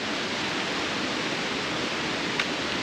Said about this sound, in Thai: ได้ยินเสียงน้ำตกแล้วแบบรู้สึกสดชื่นมาก